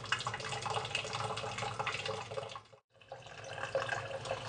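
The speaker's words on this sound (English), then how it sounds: "I've drilled the hole, filled it back up with water" Water from a tap or container runs steadily into a freshly drilled hole in soil, a continuous trickling wash that briefly stops and then resumes, close by and without voices.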